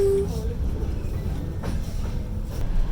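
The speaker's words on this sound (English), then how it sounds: "It's also a sleeper train." Overnight sleeper train from Georgia to Baku, Azerbaijan, rumbling steadily with a brief high squeal at the start and faint clanks and creaks of the carriage, heard from inside.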